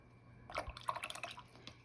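Water drips and splashes faintly and close by as a brush wets paper for watercolor painting, a short cluster of soft liquid plinks.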